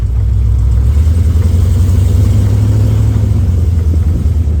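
Engine of an early Ford Bronco idling, a loud, steady low rumble close by that holds even throughout while it is shifted from neutral into drive.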